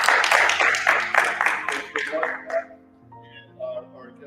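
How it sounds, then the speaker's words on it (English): A crowd at a Veterans Day ceremony claps in a burst of rapid applause that gradually thins and fades, followed by a voice starting to speak. "I'd like to give a round of applause for Mr. Bill Kimmerer."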